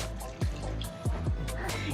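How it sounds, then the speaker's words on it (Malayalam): Water runs and splashes into a pot in short gurgling bursts, with a few drips, fairly quiet and close, as about a quarter glass of water is added to salted ginger curry (inji curry) while cooking. "ഒരു 1/4 ഗ്ലാസ് വെള്ളം കൂടെ ഒഴിക്കുകയാണ്"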